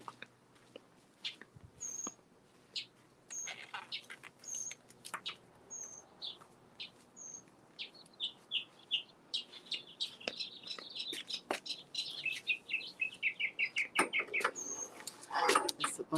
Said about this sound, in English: It's a bunch of new birds out here.